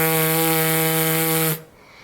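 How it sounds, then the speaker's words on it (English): A steady, sustained trombone embouchure lip buzz with a bright, brassy tone holds one pitch for about a second and a half, then stops abruptly, leaving quiet. "your lips are going to stay relaxed in the center and create a buzzing sound"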